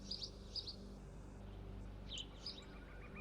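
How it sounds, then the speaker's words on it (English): Birds chirp in a tree in the VR game Cyube VR, faint scattered tweets in small bursts over a steady low background hum, with no talk. "There's birds in this tree."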